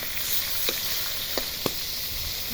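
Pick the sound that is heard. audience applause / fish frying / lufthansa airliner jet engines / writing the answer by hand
fish frying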